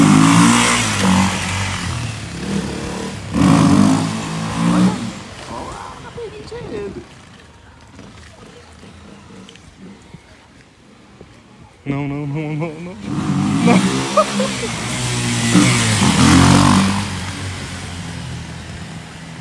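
A Honda XRE motorcycle revs hard while popping a wheelie: two loud, rising engine bursts, close by, separated by a quieter stretch of low running.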